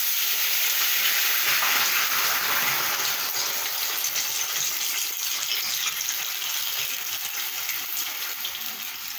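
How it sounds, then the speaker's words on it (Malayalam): Boiling water poured into a pan of semiya for kesari gives a loud, continuous gushing hiss and sizzle that slowly eases over several seconds. "തിളപ്പിച്ച വെള്ളമാണ് ഒഴിച്ചത്."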